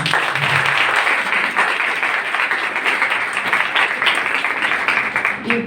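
A crowd claps steadily at a Quaid Day celebration in a women's college in New Karachi, dense sustained applause filling the whole stretch at a fairly loud, even level.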